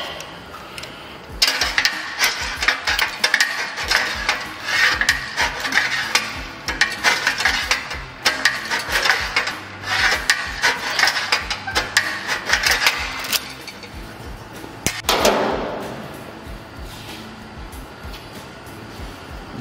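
A hand-operated shrinker/stretcher tool shrinks sheet metal with rapid, steady clanking strokes for about twelve seconds. A short pause follows, then a brief squeal and a few quieter knocks close by.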